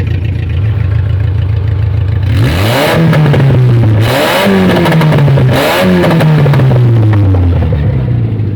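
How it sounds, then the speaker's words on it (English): A car with a suspected head gasket fault is revved hard on a road test pull, its engine climbing loudly through several rising sweeps with gear changes between them, close and dominant. "I say you do a pull on the road over here and see if it's low on power"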